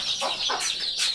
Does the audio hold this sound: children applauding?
no